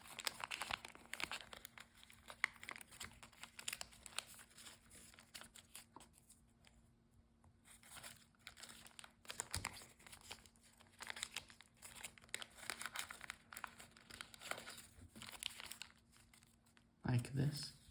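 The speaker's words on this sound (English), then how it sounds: "So let's first narrow them by mountain folding." Paper being mountain folded while shaping an origami mouse gives intermittent close crinkles, creases and soft rustles in small bursts, with a person talking over them.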